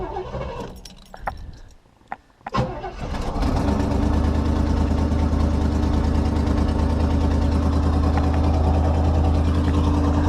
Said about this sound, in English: Typical for a quadrajet when they're cold.